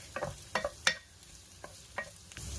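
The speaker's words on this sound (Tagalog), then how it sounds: "Stir fry lang po siya hanggang sa maluto yung carrots." Carrots stir-fried in a pan for Filipino fried rice: a handful of sharp spatula scrapes and clacks over a low, steady sizzle, close by, with no talking.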